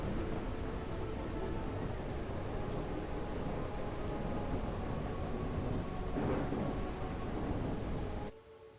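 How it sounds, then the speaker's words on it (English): A rain and thunderstorm effect plays in a video game in development, a steady hiss of rain with a low rumbling roll of thunder, constant throughout before cutting off abruptly near the end. "I pressed numpad 2, and that's to make it raining and storming."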